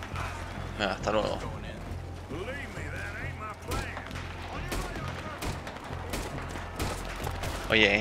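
Bursts of rapid gunfire and thuds in Red Dead Redemption 2, with mechanical clicks, under steady talking.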